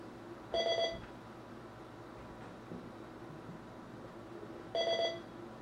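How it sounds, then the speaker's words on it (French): Two bursts of a telephone ringing, each under a second long, at the start and near the end, separated by quiet background hiss with no talking. "Ça sonne."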